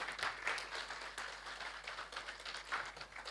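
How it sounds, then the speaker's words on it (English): Audience applause at a gender equality bell-ringing event, a steady wash of many hands clapping at moderate distance, sustained throughout with no talking over it. "You've stopped reflecting, you're clapping."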